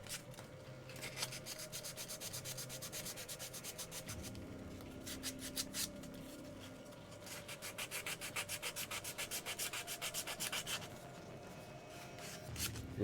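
A handmade grimoire book cover coated in filler primer is sanded by hand with quick, rhythmic rasping strokes in close, steady bursts, a brief pause breaking the scraping midway, with no voices.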